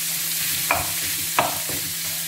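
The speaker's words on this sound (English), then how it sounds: "Then I'll keep on stirring it" Meat pie filling stirred in a pan until golden brown, a steady low frying hiss broken by two clear spoon scrapes and a fainter third.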